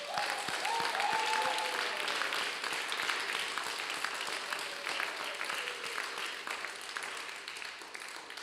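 A congregation at a Palm Sunday vigil at Saint-Nicolas church breaks into sustained applause for the Lord, a steady wash of many hands clapping that fades slowly over several seconds.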